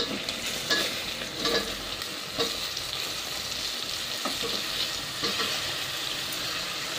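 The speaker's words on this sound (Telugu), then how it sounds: "ఇవి మంచిగా ఫ్రై అయిపోయింది." Vegetables for sambar fry in a pan, a steady close sizzle broken by the scrape and clatter of a spoon stirring them at irregular intervals.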